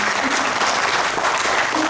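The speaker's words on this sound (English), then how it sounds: "Round of applause." Room full of people applauding a returning colleague at a talk, loud continuous clapping throughout with no pauses.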